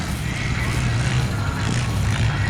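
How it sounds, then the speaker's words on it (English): Mini truck rolling in at a demolition derby, a steady low engine rumble and road noise that fill the whole moment, loud and continuous. "Mini truck rolling in."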